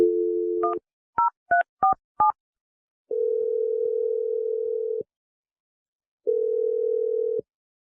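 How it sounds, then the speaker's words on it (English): Telephone tones ring out clearly and alone: a steady dial tone, then five quick two-pitch dialing beeps, followed by two long ringback tones separated by silence. "I'm going to dial his number right now."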